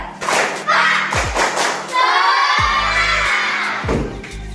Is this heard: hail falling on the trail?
no